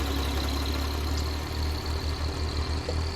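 A Fendt tractor engine from 1962 runs steadily as the tractor turns on a farm, a low continuous drone with a faint whine above it and no talking.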